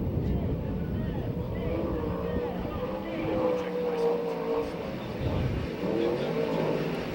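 A USAC/CRA sprint car runs its first qualifying lap at Perris, its engine a continuous distant roar that rises and falls as it circles the track.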